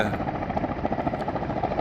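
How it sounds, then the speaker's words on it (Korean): Firefighting helicopters working over a forest fire in the hills, a steady, loud, droning rotor and engine noise throughout with no talk. "아, 헬리콥터가 이제 한 대 더 투입돼서 네 대가 됐네요."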